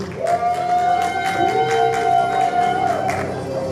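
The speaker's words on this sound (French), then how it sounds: "On peut toujours applaudir, hein?" An audience applauds in the hall during an awards ceremony for web productions, a steady wash of clapping and crowd noise with a sustained tone ringing over it.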